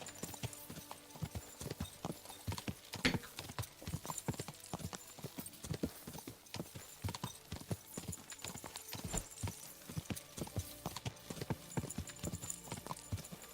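A horse in the video game Kingdom Come: Deliverance gallops with a steady, rapid clip-clop of hooves throughout, moderately loud, with a faint whinny and brief bits of talk over it.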